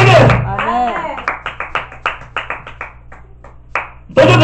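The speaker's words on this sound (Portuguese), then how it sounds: "Dá uma salva de palmas, Jesus Cristo." Church congregation clapping at a service, a string of distinct, fairly close hand claps in an uneven rhythm, with a preacher speaking loudly at the start and end.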